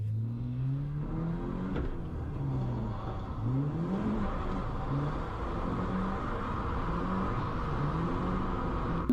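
A budget BMW drift car's engine revs repeatedly through a first drift, rising and falling pitch sweeps with a constant rumble and tire noise, loud and close, with no talking.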